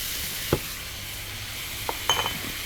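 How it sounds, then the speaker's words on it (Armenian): Minced meat, onion, garlic and tomato paste being stirred in a pan for a meat pie filling: a low sizzle with a few short utensil scrapes and clinks against the pan. "և լոլիկի մածուկը։ Խառնում եմ։"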